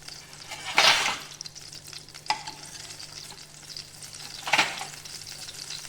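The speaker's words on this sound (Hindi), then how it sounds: "अब हम इसके अंदर सबसे पहले तेल जैसे ही हमारा गर्म होता है 1 चम्मच के करीब उसके अंदर जीरा डालेंगे।" Cumin seeds sizzle in hot mustard oil with a soft, constant frying hiss. Sharp stirring scrapes sound in the pan at intervals, close by.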